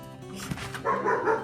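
A dog barking, dubbed in as a sound effect: a few quick, close yapping barks and whimper-like yips crowd together in about a second and a half.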